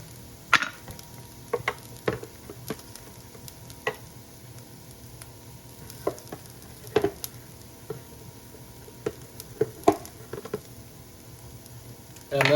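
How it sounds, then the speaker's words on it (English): Garlic and 1.5 teaspoons of cumin stirred in a frying pan, a spoon scraping and tapping in scattered knocks over a low, steady sizzle. "And then I'm going to stir for a minute"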